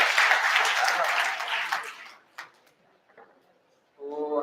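Audience applause at a college poetry event, a burst of clapping from the crowd that fades out after about two seconds, followed by scattered noises and a voice starting to speak.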